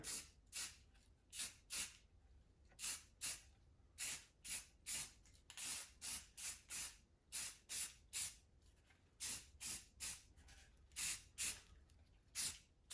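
Rust-Oleum Painter's Touch flat gray primer sprayed from an aerosol can onto a carved duck decoy, a long series of short hissing bursts in a steady rhythm, close and fairly loud with quiet gaps between.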